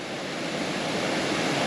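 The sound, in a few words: Blue Hole Falls waterfall pouring into a pool, Fiery Gizzard, Tennessee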